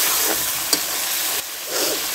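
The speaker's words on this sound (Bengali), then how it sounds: "মশলা কষে উঠছে" Spices with onion and green chili fry on a stovetop pan for a fish curry, giving a steady close sizzle with brief scraping stirs and no voices.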